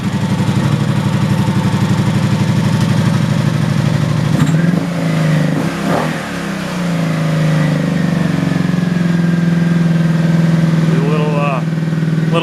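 A Honda Magna motorcycle engine with a freshly replaced starter runs steadily throughout, loud and close, with a brief dip and a couple of throttle blips midway. It keeps a slightly high idle, with voices heard over the engine.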